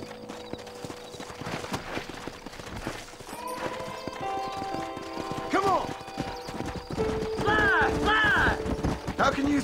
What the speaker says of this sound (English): Get my horse, get here, please.